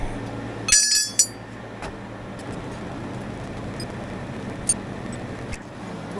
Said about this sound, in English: I'll just pile all my tools up right over here.